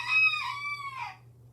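Rooster Cello crows once at close range, a loud drawn-out call that trails off, over a steady low hum, with no one talking.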